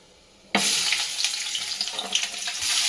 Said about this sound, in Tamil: இப்போ கொஞ்சம் ஆனியன் அண்ட் சில்லி போட்டுக்கலாம்.